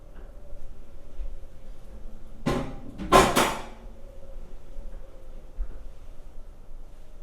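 An oven door opened and closed to put in a tray of tomatoes, heard as two close, clattering knocks in quick succession over a quiet room, with a softer bump a few seconds later.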